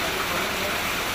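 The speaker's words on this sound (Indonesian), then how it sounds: "Luar biasa nih hujan" Heavy rain falls in the remote Central Kalimantan interior during a fishing trip, a dense, steady hiss and rush that stays even and fairly loud through a brief moment, with no voices.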